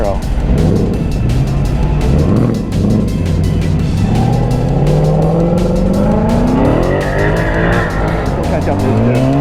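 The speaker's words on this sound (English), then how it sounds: "Little Camaro." A Chevrolet Camaro accelerates hard nearby, its engine note climbing steadily in pitch over several seconds, loud and continuous amid road and tire noise.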